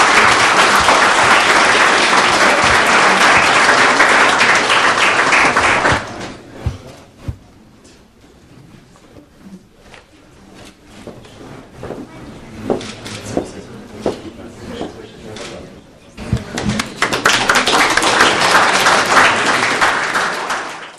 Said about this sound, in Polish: To ogromne brawa